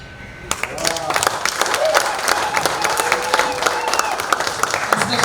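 Hearty audience applause at a knighting ceremony in Uganda, dense steady clapping from a crowd with scattered sharper claps and some voices murmuring underneath, sustained at even loudness throughout.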